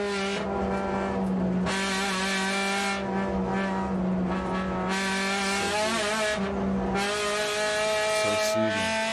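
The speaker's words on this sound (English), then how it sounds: "Honda Integra DA6 XSI Sugo track best time." Honda Integra DA6 XSi on a racing lap at Sugo track, its engine revving hard and steady with rising and falling pitch through gear changes, loud and close, continuous for about nine seconds.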